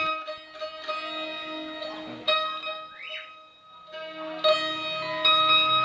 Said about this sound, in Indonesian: Berikut adalah contoh bunyi dari siter.